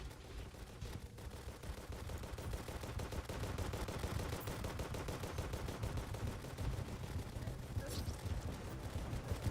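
In the Terraria video game, a huge army of pumpkins lets loose a dense, unbroken stream of rapid gunfire. It runs as a constant rattling barrage under a busy game mix.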